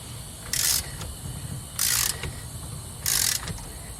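Socket ratchet clicking on a VW Type-3 brake bolt in three short, crisp bursts of rapid pawl ticks, close and distinct, separated by brief pauses.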